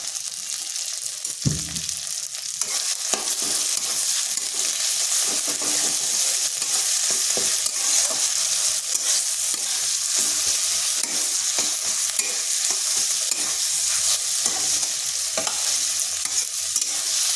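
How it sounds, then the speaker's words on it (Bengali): Mashed flat beans stirred steadily in a kadai over heat to dry them, a continuous close sizzle with repeated scraping strokes of the spoon against the pan. "এইভাবে অনবরত নাড়তে হবে। আর সিমের যে একটা জল জল ভাব থাকবে সেটা কড়াইয়ের মধ্যে শুকনো করে নিতে হবে।"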